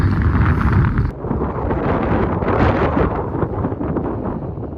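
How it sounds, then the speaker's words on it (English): Strong coastal wind at a beach in Chincoteague, Virginia buffets the microphone in a continuous roaring rush, loud and close, with a brief dip near the start. "It's going to be too windy for the beach."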